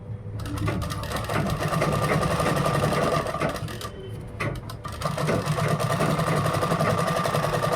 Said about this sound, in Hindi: तो ये मैंने पक्की सिलाई ले लिए